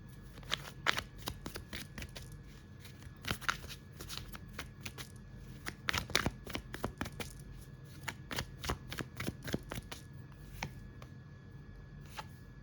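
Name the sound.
shuffling and drawing tarot cards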